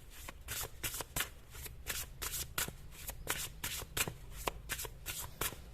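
Tarot cards being shuffled by hand, a rapid series of crisp riffling bursts repeating in quick rhythm, close and clear with no talking over them.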